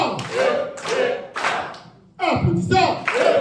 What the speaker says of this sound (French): Nous allons donc applaudir. Des applaudissements bien mérités.